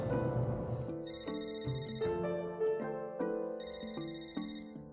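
A phone rings on an outgoing call, a repeating electronic ringtone melody of beeping tones, moderately loud and steady with no talking over it.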